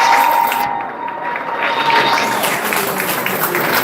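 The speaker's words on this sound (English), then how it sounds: "give them a big round of" Audience applause at an XRP meetup: a dense, steady wash of clapping and crowd noise fills the whole stretch, loud and continuous, with a faint tone running underneath.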